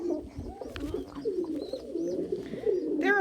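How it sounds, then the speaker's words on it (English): Several pigeons coo continuously at close range while perched on a person's shoulder and arms, their low throaty calls overlapping, with some rustling and a brief higher chirp near the end. "There are pigeons legit fighting over who gets to be on my shoulder and in my arms right now."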